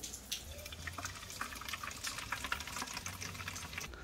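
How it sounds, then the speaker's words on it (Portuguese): Water being poured into a fertilizer mixture, a faint, steady trickle and splash with small bubbling pops, close and quiet with no talk. "Agora você vai colocar meio litro de água nessa fórmula."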